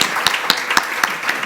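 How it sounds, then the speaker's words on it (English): A small audience at a council candidates' education forum claps briefly, a sparse handful of distinct, fairly close claps standing out in a short burst. "Round of applause for our candidates."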